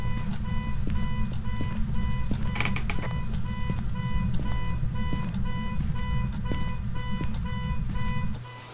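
Repeated electronic alarm beeps in the horror game Phasmophobia, set in the Tanglewood Street house, sounding steadily and loudly for several seconds over a low droning background before cutting off near the end.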